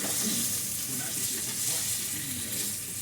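A close, even sizzle of Italian sausage with onion and green pepper frying together in one pot, crackling continuously at moderate loudness for a few seconds with light stirring underneath.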